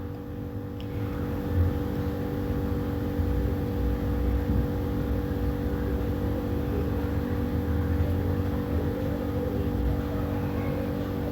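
A sewing machine stitches pleats on a blouse, a continuous close motor whir with a steady humming tone that runs unbroken throughout.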